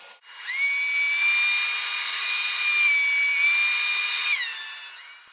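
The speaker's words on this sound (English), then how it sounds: "I'm planing both sides down to get them smooth" A power planer shaves a cherry wood board with a steady high-pitched whine, running continuously with a brief pitch shift as it passes along the board, loud and close with no speech.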